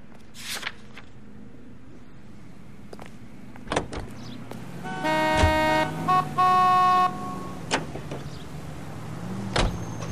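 A 1940s-style car in L.A. Noire sets off with door clunks, a short tooting horn burst and a low engine hum. Its pitch shifts as the car pulls away, moderately loud, with brief knocks around it.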